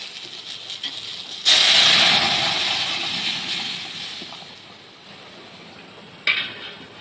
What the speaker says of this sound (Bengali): তো চলো ডালটা ঢেলে দিই।